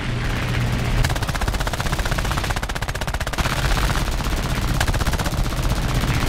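Sustained rapid machine gun fire from a Nimrod Mk II biplane in War Thunder air arcade combat, a dense continuous rattle of shots under engine drone, loud and close, with brief pauses before firing resumes.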